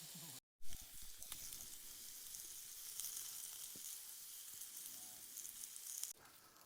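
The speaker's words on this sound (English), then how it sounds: "just to let the peppers and the onion cook through" Peppers and onion sizzling in a pan at a campsite, a faint, continuous hiss that runs through the whole stretch with a brief dropout near the start and a few small ticks and knocks.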